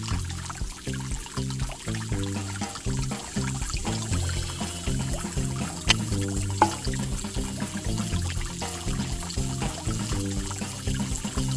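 Water pours and trickles in an animated children's science game where it spins a pinwheel, a steady liquid stream with rhythmic splashy pulses, loud and close, with no talking.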